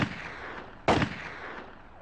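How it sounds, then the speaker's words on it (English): A single sharp, loud gunshot sound effect cracks out against a steady background noise, then decays with a short echoing tail. "Typical until the shattering sound of gunshots rings out."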